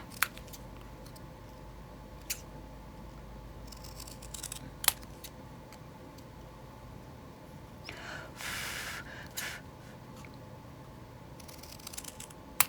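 Scissors cut paper for a junk journal page with a few quiet, crisp snips spread across a soft background hiss, plus a brief louder rustle midway.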